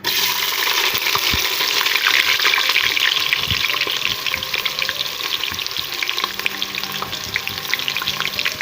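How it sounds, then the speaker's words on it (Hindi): Onions frying in hot oil, a loud dense crackling sizzle with scattered pops that continues steadily for several seconds, close up and with no talking. "ये अब ऑयल गर्म हो चुका है, अब मैं इसमें प्याज डाल दूँगी।"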